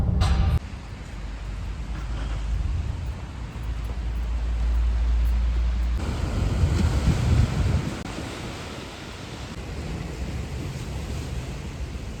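A loud, continuous roar of rushing water from a waterfall in Valencia, Spain fills the scene, broad and steady, with gusty wind buffeting the microphone at times.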